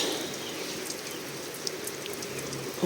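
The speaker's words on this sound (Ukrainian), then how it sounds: "Хай дощик падає." Rain patters continuously nearby, a soft, even wash of drops with a few slightly sharper ticks standing out.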